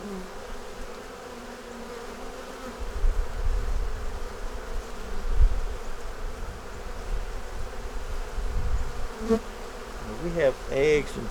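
Honey bee swarm buzzing steadily outdoors in a cold, snowy setting, a dense continuous drone that swells and thickens over time, with a few sharper sounds near the end.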